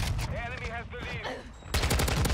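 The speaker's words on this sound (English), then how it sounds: "I don't know who the hell's shooting at me, man." Rapid automatic gunfire in Modern Warfare 2 during an online match, a dense burst of shots under and after a player's speech, loud and close.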